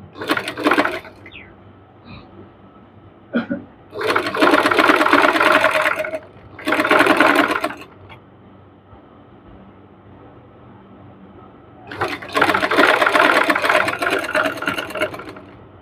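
Close, loud sewing machine stitching fabric in several separate runs of rapid, even whirring, one short, two longer and a final sustained run, with quiet handling noises in the pauses between.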